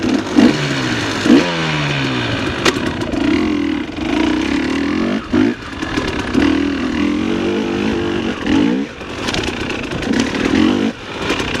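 A dirt bike engine revs hard in third gear, its loud, close, buzzing roar rising and falling in repeated pulls, with brief dips between bursts of acceleration.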